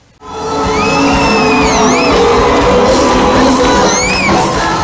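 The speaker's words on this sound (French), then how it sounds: "Des cris de joie, des pas de danse à la gloire de l'Éternel" A concert crowd at a gospel event cheers and shouts for joy in praise of God, with loud sustained cheering and high whoops building right from the start and continuing throughout.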